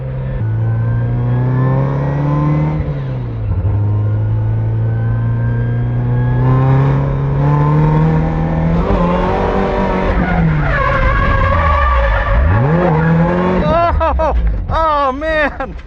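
A Toyota AE86 drift car revs hard while its tires squeal, the engine pitch climbing, dropping and swooping through a long loud drift, ending with quick rev blips.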